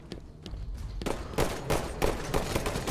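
Sniper rifle shots and gunfire during a competitive Halo 5 multiplayer match, a series of sharp broadband cracks spaced through the clip over a dense, busy game mix.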